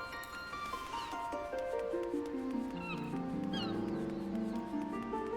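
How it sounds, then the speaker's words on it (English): Cat meowing in Final Fantasy XIV, a few short meows over a game music backdrop, fairly close and clear, with no talk. "Cat's over there."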